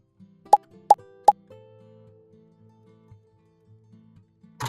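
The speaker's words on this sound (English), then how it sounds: "Scoop the onion and oil mixture into each ice cube tray." Spring onion and oil mixture scooped into an ice cube tray: three sharp, close plopping drops in quick succession, followed by faint soft clinks and low handling sounds, with no talking.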